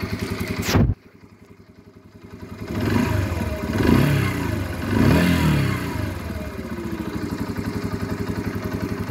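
A Yamaha XT125X motorcycle idles, then revs up and pulls away, the single-cylinder engine rising in pitch through a couple of surges before settling into a steady, close putter.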